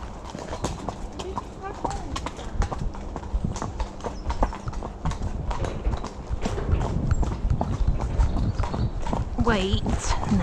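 Rhythmic clip-clop of horse hooves walking on a hard surface, close and steady, with occasional voices and a snort mixed in.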